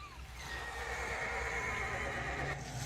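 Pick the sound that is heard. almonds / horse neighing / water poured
horse neighing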